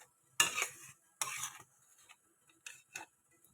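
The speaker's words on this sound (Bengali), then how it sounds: "মশলাটাকে এইভাবে একটু নাড়িয়ে যেতে হবে" A utensil scrapes and stirs turmeric-spiced masala paste in a pan for a singi fish curry, in several short, distinct strokes separated by quiet gaps, close and fairly crisp.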